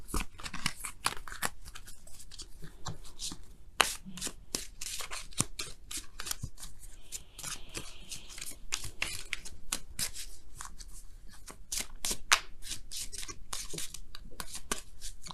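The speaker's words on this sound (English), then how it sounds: "Now we're going to go ahead and pull you guys your oracle cards for the week." Oracle cards shuffled by hand for a weekly tarot reading, a close, quiet run of rapid papery riffles and slaps that repeat irregularly for the whole stretch, with no talking.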